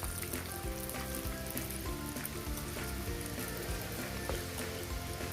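Pieces of chicken fry in a pan of hot oil with a dense, steady sizzle and crackle that continues without pause, close and even in level, with no talking.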